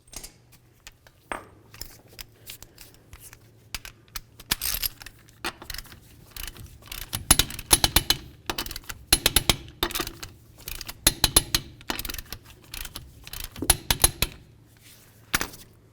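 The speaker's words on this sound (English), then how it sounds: "now we'll torque each of our lug nuts to 85 foot-pounds" Ratcheting and clicking from a torque wrench snugging lug nuts on a 2007-12 Nissan Sentra wheel, in uneven bursts of sharp metallic clicks and clacks over about fifteen seconds, close up with no talking.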